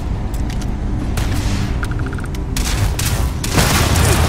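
Sustained video game gunfire fills the scene, a dense wash of shots and booms with a few sharp bursts and louder blasts near the end, steady and close throughout with no clear talk.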